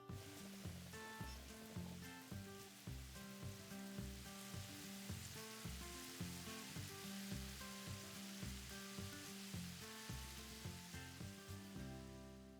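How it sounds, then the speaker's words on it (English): Six fried ravioli with chocolate sizzle in a pan of hot vegetable oil, a dense, steady crackling fry with regular pops and bubbling, close and loud and with no talk over it. "I've got a pan with some vegetable oil, and I'm gonna drop all 6 of these in at once"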